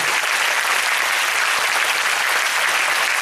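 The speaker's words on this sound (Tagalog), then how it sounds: "Ako, hindi po ganyan ang palakpak sa isang great God." A church congregation breaks into dense, sustained applause that stays loud and even for several seconds, with no voices standing out.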